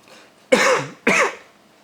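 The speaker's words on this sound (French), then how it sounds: "Encore une fois, je tousse" Two sharp, harsh coughs, close up, about half a second apart, with quiet breathing before them.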